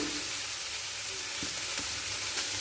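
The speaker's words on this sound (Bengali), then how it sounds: "পেঁয়াজটাকে হালকা লাল করে ভেজে নেব।" Chopped onions and green chili fry in mustard oil in a hot kadai, giving a loud steady sizzle and hiss with a few soft stirring knocks, no talking.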